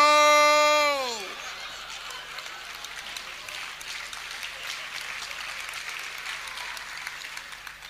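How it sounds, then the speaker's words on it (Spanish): A theater audience breaks into steady applause just after a falling tone ends, a sustained patter of many hands heard somewhat distant and even throughout. "Es el aplauso de un público que reconoce una auténtica reliquia"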